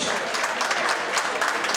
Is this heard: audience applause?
yes